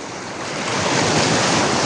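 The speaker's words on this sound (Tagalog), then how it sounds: "Lakas ng alon." Strong ocean waves crash and roar in a dense, continuous wash of surf that swells louder partway through, with wind noise mixed in.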